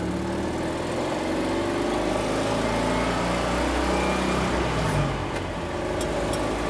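Citroen 2CV 4x4 Sahara, the twin-engined off-roader with no soundproofing, running loudly with a steady, dense engine drone throughout, heard from inside the car.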